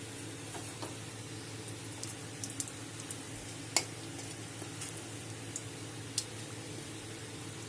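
Dried red chili and whole cumin seeds, with a pinch of salt, sizzle in hot oil in a pan for a Bengali-style choura kochu dish; a steady, soft frying hiss runs throughout, dotted with a few sharp crackles and pops.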